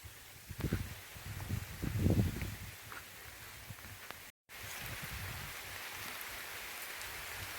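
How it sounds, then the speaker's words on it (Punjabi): Rain falling steadily as a broad hiss over a cotton field, with some rustling and low bumps early on and a short break partway. "ਜ਼ਿਆਦਾ ਆ ਗਿਆ ਮੀਂਹ"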